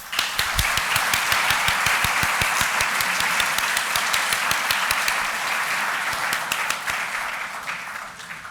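Sustained audience applause fills the room after a talk at a museum exhibition event on Winslow Homer, dense steady clapping from a crowd that holds loud throughout, with no speech over it.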